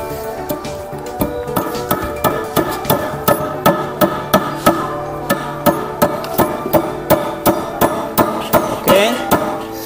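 A hammer drives a hydraulic lock pin into a barber chair, about twenty sharp metallic strikes in a steady beat with ringing clinks between them, close and loud.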